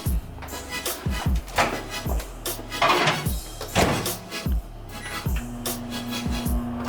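Kitchen handling while putting food in a microwave: a string of close knocks, clatters and a door-like thunk, irregular and fairly loud, with a brief hum near the end.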